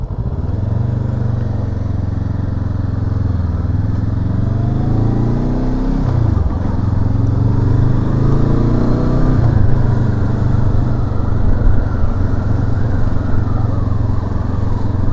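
Continuous drone of a 2023 Honda CL500 motorcycle engine while riding, pitch dipping and climbing as it shifts gears, steady and loud throughout.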